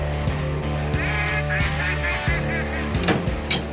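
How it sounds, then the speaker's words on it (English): Ducks quacking and honking repeatedly, loud and close, a dense overlapping chorus of calls drawn in by decoys near water. "And a few more decoys to bring in the ducks."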